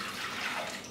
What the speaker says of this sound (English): I'm going to put about 2 cups of